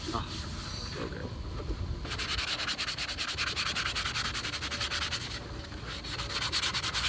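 Sandpaper rubbing over painted clone trooper armor, close and continuous back-and-forth scratching strokes in a fast rhythm, quieter at first then steady and loud.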